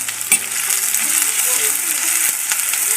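Mustard seeds, onion, garlic and ginger hit hot oil in a Kerala village kitchen, giving a steady, close, loud sizzle and crackle throughout, with a few sharp pops and light stirring sounds.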